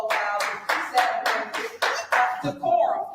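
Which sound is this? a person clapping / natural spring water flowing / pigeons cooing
a person clapping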